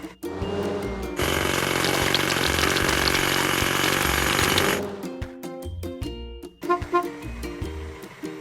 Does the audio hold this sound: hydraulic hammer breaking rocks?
yes